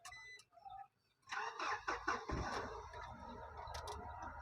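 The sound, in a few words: car diesel engine starting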